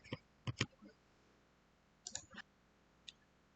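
Crisp computer mouse clicks on a blog management button, several quick sharp clicks in small clusters with a lone click near the end, over quiet room tone.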